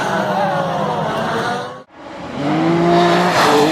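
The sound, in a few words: Pro Mazda race cars crashing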